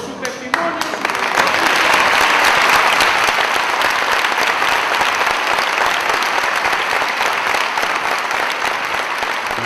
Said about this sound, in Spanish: Y además pido un cerrado aplauso por su testimonio.